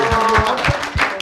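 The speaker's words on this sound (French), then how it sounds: "Est-ce qu'on peut l'applaudir?" An audience claps in a quick, even rhythm, sharp hand slaps repeating about three to four times a second over a faint tonal background.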